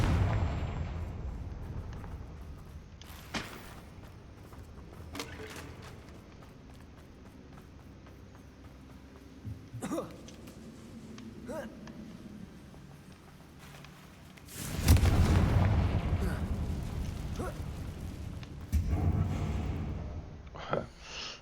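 The Confringo blasting spell in Hogwarts Legacy, with sparse impact thuds and a large explosive burst midway over quiet game ambience, followed by further rumbling blasts.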